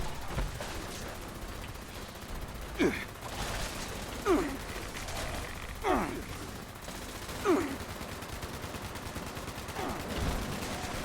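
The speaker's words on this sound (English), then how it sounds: "time for the gat laser" Gatling laser firing in the video game Fallout 76, spinning bursts repeating roughly every one and a half seconds over a continuous background hum, mid-distance and moderately loud.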